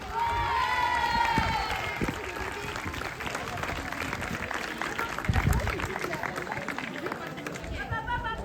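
Applause and cheering from a pageant audience fill the room steadily for the whole stretch, with crowd chatter and a voice rising over the clapping near the start.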